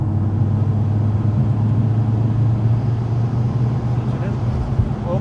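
Inside the cabin of a modified Ford Focus ST, a steady low engine hum drones from under the bonnet while driving, loud and constant with a faint rising note near the end.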